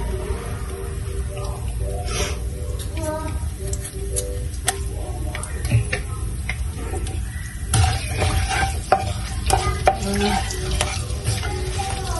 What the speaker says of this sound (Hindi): चार से 5 हरी मिर्चें काट के डाल दूंगी।